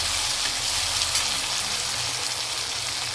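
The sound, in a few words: sautéing small onions and garlic in a pan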